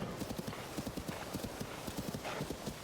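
A horse gallops in The Legend of Zelda: Tears of the Kingdom, its hooves striking in a quick, steady rhythm of soft thuds above a wash of wind and field ambience.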